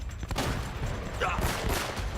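A rapid burst of gunfire in the video game Uncharted, several sharp shots in quick succession followed by a brief voice.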